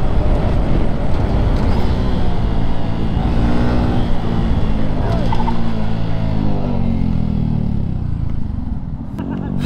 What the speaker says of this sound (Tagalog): Sumasagad na yung motor.